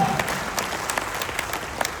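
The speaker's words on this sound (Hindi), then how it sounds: "तो प्लीज उनके लिए बहुत जोरदार ताली" Scattered applause from a modest crowd, individual claps standing out in an uneven rhythm, moderately loud and close.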